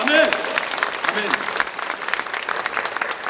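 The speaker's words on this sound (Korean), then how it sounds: "우리 성령님께 다시 한번 영광의 박수 감사 박수 드립니다" Church congregation applauding during a Sunday worship service in Korea, dense sustained clapping with a few voices mixed in near the start.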